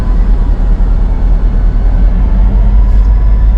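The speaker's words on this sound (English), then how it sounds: "I've never seen a train on a crossing that had no lights or anything." A steady low rumble of a train rolling past an unsignalled level crossing, constant and fairly loud with no breaks, no voices.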